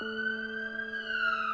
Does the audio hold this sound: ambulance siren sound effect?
yes